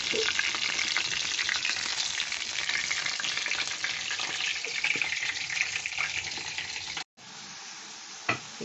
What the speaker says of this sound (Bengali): তারপরে এই বড়াগুলো ভেজে তুলে নিচ্ছি